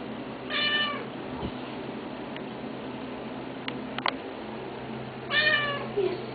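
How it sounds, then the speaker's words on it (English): A cat meows twice, a short call near the start and another near the end, with quiet room noise and a few small clicks between. "Meow. You want to talk?"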